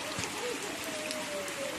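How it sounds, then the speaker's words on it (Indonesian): Steady rain hisses down on a muddy village yard beside an old wooden stilt house, an even, moderately loud wash of falling water with no clear talk. "Ini kalau hujan di kampung itu kayak gini, becek."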